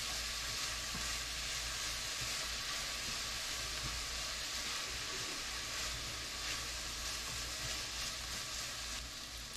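A halved whole head of garlic and green onions sizzle in a pan for an eggplant stew, producing a soft, even, continuous frying hiss with no voices.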